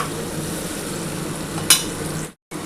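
Onions frying lightly in a pan for a fish curry, a steady close sizzle with one sharp scrape near the end, then a brief cut to silence before the sizzle resumes.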